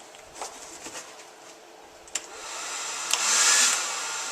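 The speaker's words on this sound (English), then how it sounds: "Put your hair dryer on low" A hair dryer on its low setting, blowing warm air onto a tube of urethane, with a steady, airy whoosh that grows louder partway through, with a few soft clicks and taps before it.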